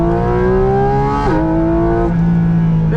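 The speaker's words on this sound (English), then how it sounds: "it literally feels like the engine is inside your brain" A Porsche GT4 RS engine screams loudly at high revs on a track, pitch climbing through the gears with a quick PDK shift, close and continuous without pause.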